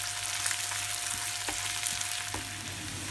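Onions and vegetables sizzle in mustard oil, a constant crackling hiss with a few soft clicks of stirring, near and steady throughout.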